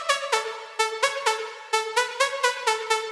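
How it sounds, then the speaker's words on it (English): Bright synth pluck melody processed through three plugins in FL Studio, about a dozen short, sharp plucked notes in an even rhythm, close and clean with nothing else playing. "So here we have a pluck with three plugins on it that sounds like this."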